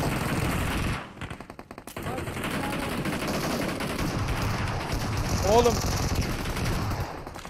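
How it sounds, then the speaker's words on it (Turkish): Rapid automatic gunfire rattles in a video game, bursts of fast shots with a brief pause, loud and close, with people talking over it. "Beyler adam beni vuruyor"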